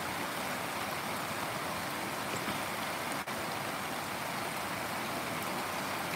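Steady heavy rain falls in windless Dhaka, a broad unbroken rushing hiss of drops on surfaces, with one brief dip partway through and no voices.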